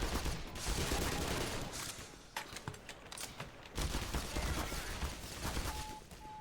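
Gunfire in the Black Mesa game, a dense run of rapid, loud shots with a brief gap partway through before the firing picks up again, heard alone without talk.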